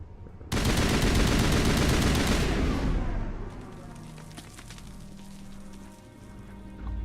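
Sustained automatic gunfire in Mass Effect Legendary Edition, a loud continuous roar of rapid shots for about three seconds that tapers into scattered, fainter crackling and debris, then surges again at the very end.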